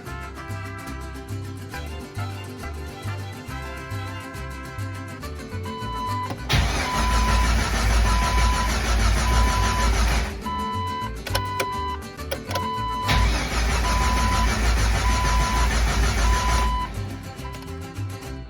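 A rebuilt Jeep 4.0 engine cranks repeatedly without catching, two long bursts of steady rhythmic starter whirring separated by a pause, close and loud over a ticking idle-like background.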